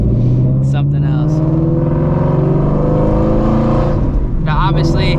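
Ford Shelby GT350 engine droning loudly on a late-night drive on damp roads with radial tires, steady low rumble with rising harmonics, while someone talks over it throughout.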